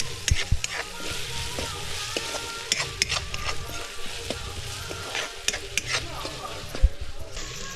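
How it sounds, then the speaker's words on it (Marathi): Turmeric and salt sautéing in a pan over a wood-fired stove in a Konkan kitchen while misal is made: continuous sizzling with scattered sharp scrapes and clinks of a spoon stirring, plus low crackling underneath. "आणि हळद आणि मीठ घेतलंय चवीपुरतं मीठ घेतलंय असं मस्तपैकी परतवून घ्यायचं आहे"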